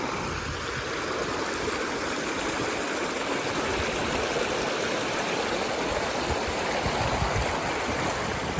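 A river at Wang Nam Khiao in Xaisomboun province flowing in a constant, loud, close rush of water with no pauses and no talk.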